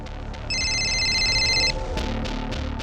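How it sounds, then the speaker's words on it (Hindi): A telephone rings with a bright electronic ringtone, one sustained ring of about a second over a quiet room with faint background sounds. "खबरी नदीम का फोन है सर,"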